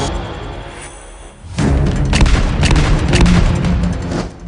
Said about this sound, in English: Sounded like gunshots.